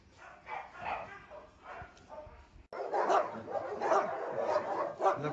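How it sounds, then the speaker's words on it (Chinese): A large kennel holding over 200 dogs, including Rottweilers, German Shepherds, huskies, Dobermans, Labradors and Alaskan Malamutes, fills the air with a dense, overlapping chorus of barks and yips that grows sharply louder partway through and stays close and continuous. "他家确实有200多条狗，还有德牧、哈士奇，里面太吵了，太吵了。"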